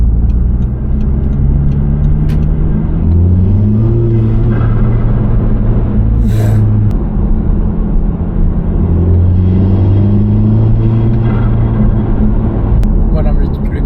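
A car engine revs with a turbo fitted, its low drone rising and falling in pitch through several sustained pulls; loud and close, with no clear turbo flutter standing out.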